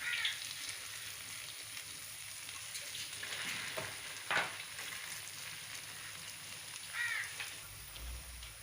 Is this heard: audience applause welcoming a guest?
no